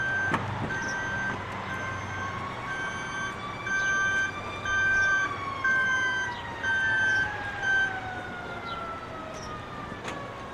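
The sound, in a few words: ambulance siren at crash simulation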